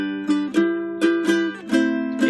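Ukulele strummed with no left-hand dampening, chords ringing on between repeated strokes, close and clear, about six strums with no talk.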